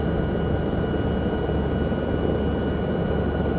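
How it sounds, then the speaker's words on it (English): The Aerospatiale AS315B Lama helicopter runs steadily in Microsoft Flight Simulator 2024, giving a loud, constant turbine whine over a dense rotor rumble that holds without pause from start to end. "Really cool to fly this iconic helicopter."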